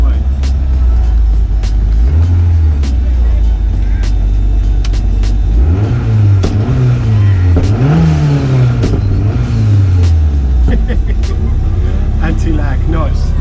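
Ford Escort RS2000 with a roughly 490 bhp Cosworth RS500 turbocharged engine accelerating hard on a closed road. It gives loud, rising revs across several gear changes, with turbo and anti-lag crackle under a steady close engine drone, and a voice talks over it.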